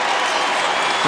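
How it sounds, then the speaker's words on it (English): A tennis crowd on its feet, clapping and cheering in a loud, dense, unbroken burst that lasts only a moment. "Crowd is on their feet, urging her to fight back"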